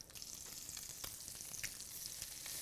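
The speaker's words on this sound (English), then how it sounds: "we're ready to add our shrimp" Shrimp frying in a pan for linguine, a faint steady sizzle with small crackles and occasional pops, no voices.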